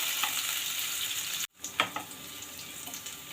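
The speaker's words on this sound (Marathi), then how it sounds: "तूप गरम झालं आता मी ह्यात तुम्ही सुद्धा शकता पण मी अगदी ह्याला हलकं शॅलो फ्राय करायचं आहे सगळीकडनं" Stuffed Rajasthani gatte shallow fry in hot ghee, with a dense, loud sizzle that cuts out for a moment and then returns with a few sharp crackles and spatters.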